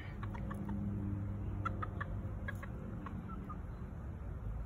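Chickens cluck in short scattered bursts while a border collie herds them, their calls faint over a steady, loud rumble of background noise throughout.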